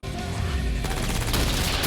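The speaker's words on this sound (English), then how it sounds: "What, I'm supposed to believe nobody fucking heard that gunfire?" Rapid gunfire crackles through a raid scene at a concert in the Mortal Kombat movie, a loud, dense burst of shots that continues throughout.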